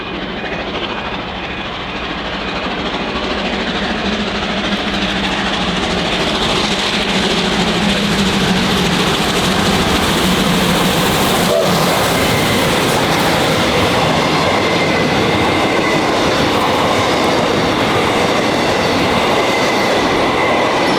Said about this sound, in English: two mighty R-Class Hudson steam locomotives, absolutely belted its way east